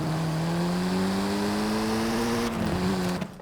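A Volkswagen Golf R 7.5 in Forza Horizon 5 with very long gearing: a steady engine drone slowly climbing in pitch, then a gear change dips it near the end before it cuts off, no talking.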